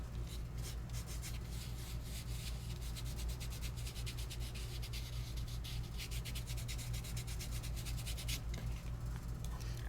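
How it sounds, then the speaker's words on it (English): A fingertip rubs and burnishes loose glitter onto sticky adhesive, a soft continuous scratchy rubbing with quick repeated strokes, close and fairly quiet over a low steady hum. "I give it a little bit of a burnish with my finger"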